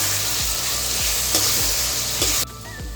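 Onion and garlic frying with red chili powder for chilli chicken, a loud continuous sizzle with steady rhythmic spatula stirs roughly every half second, dropping suddenly near the end.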